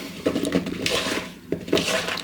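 Seasoned potatoes being mixed by hand in a tray, with soft irregular clatters, shuffles and tapping from the tray and the potatoes at close range, no voice.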